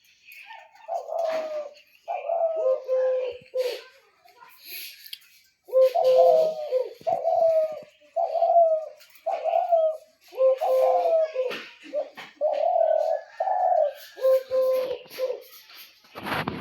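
A dove gives repeated soft cooing phrases in steady groups, close and clear, with short pauses between bouts over a quiet background.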